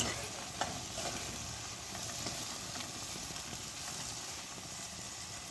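Seer fish laid into a garlicky masala in a hot pan, giving a soft, continuous frying sizzle with light stirring scrapes, fairly quiet throughout.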